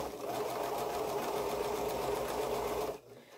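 A sewing machine stitches quilt pieces chain-style in one continuous, even whir for about three seconds, then stops abruptly.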